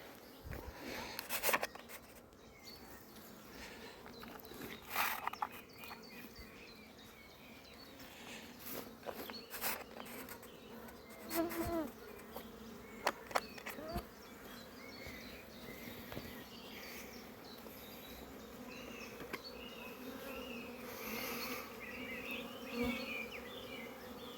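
Honeybees buzz steadily around a nucleus hive nearby, their drone rising and falling, with occasional louder passes close by and faint outdoor ambience.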